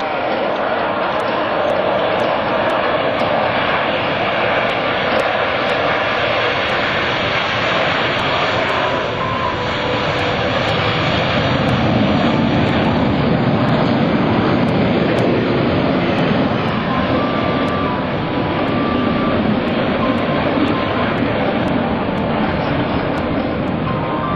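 Loud, continuous jet engine roar of US Navy fighter jets, including F-14 Tomcats, launching from an aircraft carrier, swelling and holding throughout, with a muffled announcer's voice faintly underneath the noise.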